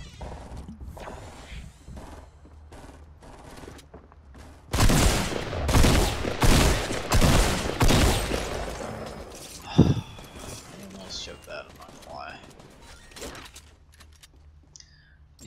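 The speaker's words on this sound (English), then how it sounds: "Shotgun fights, man." Rapid shotgun blasts and gunfire ring out during a close-range shotgun fight in the Fortnite Battle Royale video game, a dense loud burst of several shots lasting a few seconds, followed by quieter scattered game effects.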